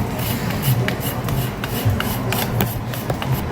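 Cheese or a similar lasagna ingredient rasped steadily across a metal grater, a continuous close scraping with repeated strokes and no talking.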